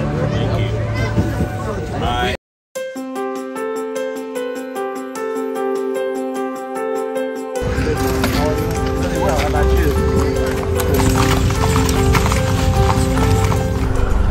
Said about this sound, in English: We're on a horse and carriage ride.